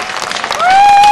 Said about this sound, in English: Do give the little kids a bigger applause,